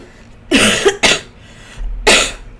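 A person coughs in three harsh bursts, two close together and then a third after a short pause, loud and near with no talking.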